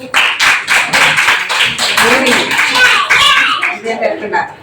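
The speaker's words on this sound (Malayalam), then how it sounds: "അപ്പൊ ക്ലാസ് ഇഷ്ടമായി നിങ്ങൾ ക്ലാപ്പ് ചെയ്യുക" A group of children claps together in a classroom, giving loud rhythmic bursts of claps, with voices talking over and between them.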